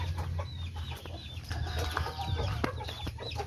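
Rescued chickens clucking inside a cage, with a steady stream of soft, overlapping clucks and short calls at moderate distance over a low background hum.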